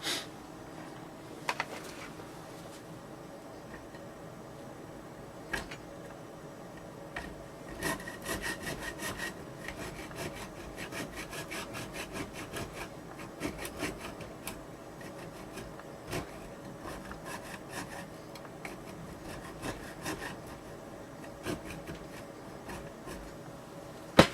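Hand sawing through part of a ukulele body to fit a homemade piezo pickup, a close, steady back-and-forth rasp of blade on wood that keeps up for the whole stretch, with a few sharper knocks, and no talking.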